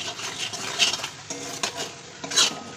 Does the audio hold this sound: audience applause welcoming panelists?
no